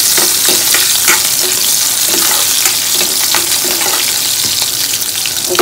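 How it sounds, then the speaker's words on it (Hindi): Garlic, green chili and ginger sizzle hard in hot oil with cumin seeds, making a loud, dense, continuous frying hiss. Scattered stirring scrapes mark the sound throughout. "अब हम इसमें डाल देंगे लहसुन, हरी मिर्च, अदरक, इनको भी कुछ सेकंड के लिए भून लेंगे"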